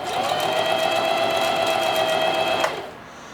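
A domestic sewing machine runs a steady, rapid stitching burst for about two and a half seconds, loud and close with a constant whirring motor hum, then stops abruptly, leaving quiet room tone.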